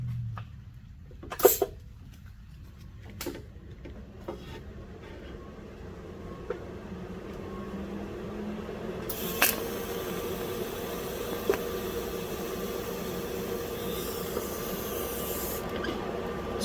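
A TIG welder runs at 160 amps as a ring is melted into a tubing joint, with a steady hiss and buzz that strengthens partway through, and a few sharp clicks and taps at the start.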